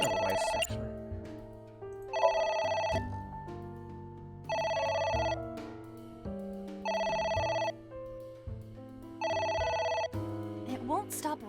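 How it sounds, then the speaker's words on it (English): A phone rings repeatedly inside the video game AI: The Somnium Files, with a steady electronic ring pattern in regular bursts of about a second each and short pauses between them, while players talk quietly underneath. "It won't stop ringing."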